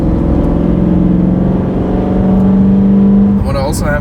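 BMW E9X M3 coupe engine revving higher, a loud, close drone that climbs steadily in pitch before cutting off, with a voice talking over it near the end.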